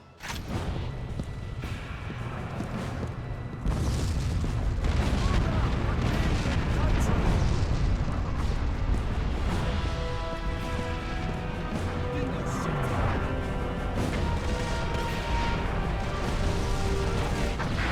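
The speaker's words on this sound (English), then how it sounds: "Sergeant Hale, we're keeping the mortars busy." Mortar fire and explosions rumble through a battle in the video game Resistance, with a dense, continuous low roar of blasts and booms that grows heavier after a few seconds, under layered game sounds and music-like tones.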